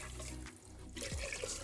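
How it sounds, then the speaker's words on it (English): Water runs into a pot for an octopus master stock spiced with star anise, a tap-like gushing stream that breaks off briefly and then resumes, close and fairly quiet. "once that's boiling, I'm going to add my 2 litres of water"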